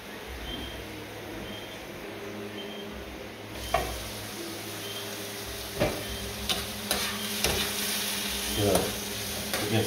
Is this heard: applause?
no